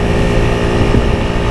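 A 2022 Honda CB125F engine drones steadily while riding, loud and continuous, with heavy wind rush over the microphone.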